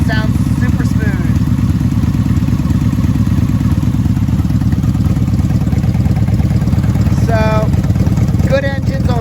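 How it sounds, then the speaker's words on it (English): A Honda Magna motorcycle engine with straight pipes idles steadily up close with an even, low rumbling rhythm, while a person speaks over it. "hear that engine sounds super smooth"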